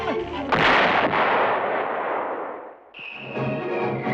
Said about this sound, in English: We need just a few more firecrackers.